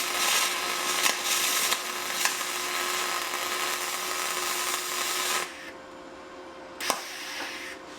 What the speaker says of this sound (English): let me show you what some aluminum welding looks like with a MIG gun that's not made for aluminum welding